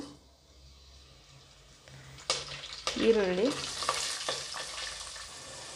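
Whole spices and seasonings (cinnamon, cardamom, cloves, mustard seeds, curry leaves) frying in four spoons of oil in a pressure cooker on a stove, a steady sizzle that swells and crackles more sharply partway through, with faint stirring and no talk.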